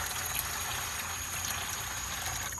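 Water pours steadily into a pan holding a Texas-style Wagyu brisket, a continuous close splashing trickle with no talk over it.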